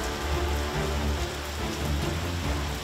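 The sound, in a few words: rain falling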